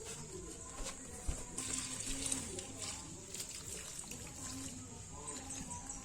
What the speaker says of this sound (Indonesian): untuk kita siram pertama kali dengan kelebihan air, nanti kan jatuh juga ke bawah